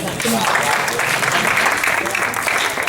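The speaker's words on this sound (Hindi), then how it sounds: "जरा तालियां बजाओ ना" A crowd claps steadily throughout, a dense continuous patter of applause filling the room with voices mixed in underneath.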